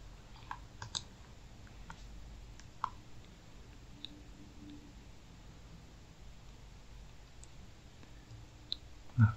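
Scattered faint mouse clicks sound against a quiet room hiss, a few sharp isolated ticks spaced irregularly and a slightly louder click at the end.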